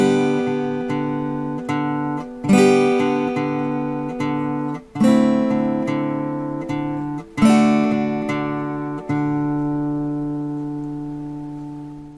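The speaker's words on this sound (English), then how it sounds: "We'll start with the intro, which sounds like this." Acoustic guitar plays the intro of a song from The Sound of Music, four ringing strummed chords struck a couple of seconds apart, each left to sustain and fade, close and clear with no talking.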